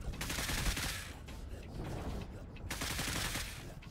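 Dense, sustained gunfire bursts from the zombie RTS video game Cepheus Protocol, loud and continuous through most of the clip with a brief lull in the middle, overlaid by some faint voice.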